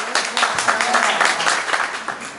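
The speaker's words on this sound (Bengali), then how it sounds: "আরেকটা করতালি আশা করি।" A crowd applauds at a company gathering, with dense, steady clapping that fills the room for a couple of seconds before tapering slightly.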